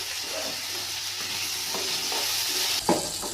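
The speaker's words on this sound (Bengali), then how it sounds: "এই তেলের ভিতরে আলু দিয়ে দিলাম, আলুটা নুন হলুদ দিয়ে" Potatoes seasoned with salt and turmeric fry in hot oil with a steady, close sizzle, and a brief clatter of stirring near the end.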